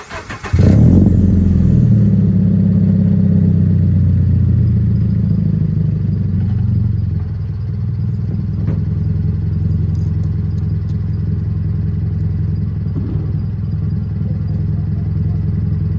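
A Subaru BRZ with a muffler-delete exhaust starts warm: a short crank, then a loud blaring catch and raised idle that gradually settles into a steady, deep, close rumble.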